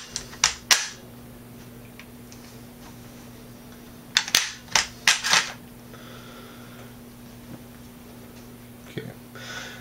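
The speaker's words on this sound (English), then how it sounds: "Hear the click. And the bolt stays back. Cycle the bolt." The bolt on a VEPR rifle is cycled close up, giving a quick pair of metallic clicks, then a rapid run of sharp clacks and snaps a few seconds later, with faint handling noise between.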